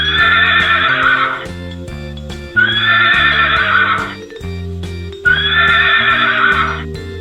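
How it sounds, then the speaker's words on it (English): Three repeated bursts of a horse neighing loudly and close, each a bright whinny lasting over a second, set over a steady rhythmic pattern of hooves clip-clopping. "Horse."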